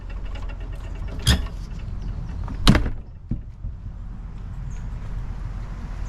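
An RV bathroom door beside a Dometic 8740 macerator toilet swings shut, two sharp close knocks followed by a softer latch click, then quiet room tone.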